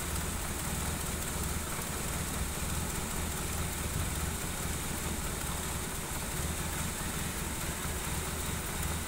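A cold Honda Accord Maestro engine idles with a steady low hum under broad, even hiss, holding constant and fairly faint with no revving or change in pitch.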